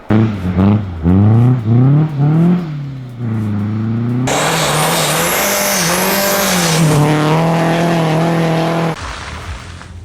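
Mercedes 190 diesel rally car on an icy rally course, engine revving hard through rising and falling gear pulls close by, then a sustained loud roar with a harsh wash of noise as it passes.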